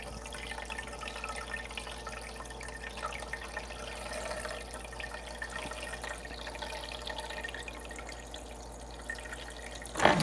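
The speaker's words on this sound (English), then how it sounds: "I'm just gonna put some water in it" Water from a refrigerator dispenser pours into the tank of a Breville Barista Pro espresso machine, a steady faint trickling and splashing that runs continuously before a brief clunk at the end.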